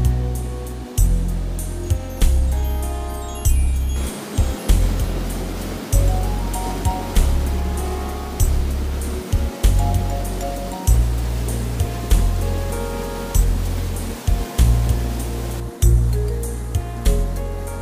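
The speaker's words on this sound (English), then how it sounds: "This is the Tosh waterfall." The Tosh waterfall in Parvati Valley roars loudly and continuously, a dense rush of water with heavy low rumbling that surges and dips now and then.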